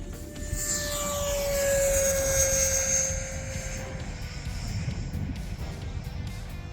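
A Freewing Stinger 90mm RC jet takes off with no flaps in 25 mph gusts, its high turbine-like whine swelling and then sliding down in pitch as it moves away, over a rough bed of wind noise.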